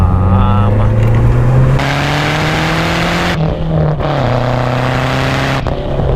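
Loud, close in-car roar of a Lancia Delta Integrale Evo 2 pulling hard up the Costo di Asiago mountain road, revs climbing steadily through a couple of quick gear changes with brief dips between pulls.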